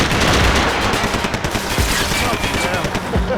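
Rapid automatic gunfire from Max Payne 3 rattles loudly and continuously in close bursts, with a few heavier shot thumps standing out.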